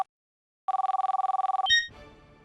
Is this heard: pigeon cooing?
no